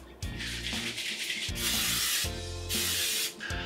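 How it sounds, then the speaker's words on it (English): Cooking spray hisses from a can onto both inner plates of a Mickey-shaped waffle maker, several loud close bursts with short gaps between them. "I'm just gonna start with a really basic spray and spray down the insides on both sides."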